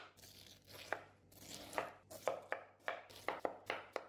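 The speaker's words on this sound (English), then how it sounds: "take one large pineapple, cut off its skin, and start slicing it." A large pineapple is sliced with a kitchen knife, giving a run of about a dozen crisp, close chopping strikes at a steady, quickening rhythm, with no voices.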